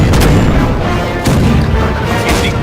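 Cannon volley fired from rowboats in the Battlefield video game: several heavy, loud booms crash out in quick succession over a dense, rumbling battle din.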